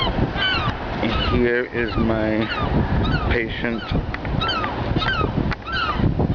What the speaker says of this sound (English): These are the rooftops off my fire escape. Here are my friends, the gulls.